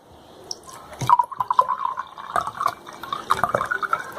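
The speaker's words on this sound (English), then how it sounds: "Now ask your friend to pour some water into the glass and observe the coin." Water poured from a container into a drinking glass for a coin refraction experiment, heard as close, bubbling, gurgling pours with small drips over about three seconds, quiet and without talk.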